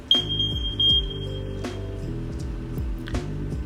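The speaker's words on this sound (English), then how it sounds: "In the living area is the smoke alarm." Smoke alarm in a home's living area sounding during a test: one high, steady beep lasting under a second near the start, over a continuous musical background.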